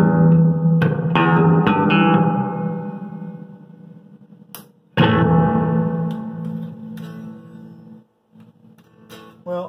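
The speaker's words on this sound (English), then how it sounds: "So if you turn the volume all the way off, turn the reverb up, you just get wet only" An electric guitar is played through a Gibson GSS100 amplifier with its reverb turned up, strummed chords ringing out in a wet, echoing wash that decays, then another chord and a few picked notes, loud and close.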